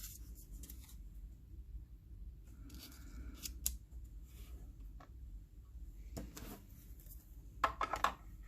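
Scissors cut paper leaves for a handmade fold card in a quiet room, giving faint, sparse snips and a few sharper closing clicks near the end.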